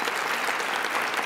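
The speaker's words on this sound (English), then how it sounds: "I'd first like to start with a big round of applause for Terry" Sustained applause from an audience at the closing session of a digital media conference, a dense steady wash of clapping filling the whole moment without pause.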